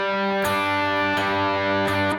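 Distorted electric guitar with two notes struck together by a pick, ringing as sustained chords with three sharp attacks spaced evenly, loud and close, no voices.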